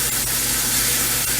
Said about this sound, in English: we're going to fry this